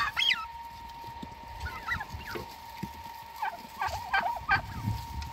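Poultry call out on a farm in Qashqadaryo where the hens are in laying season, with several overlapping gobbling and honking cries rising over a steady hum, fairly close and continuous.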